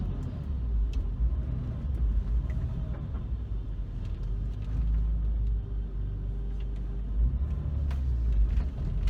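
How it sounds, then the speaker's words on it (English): Heard from inside the cabin, a Porsche GT3 with a cold air induction kit growls at low revs, giving a continuous deep, bassy engine rumble that stays steady and fairly loud throughout with no speech. "There's a much more angry growl inside the car"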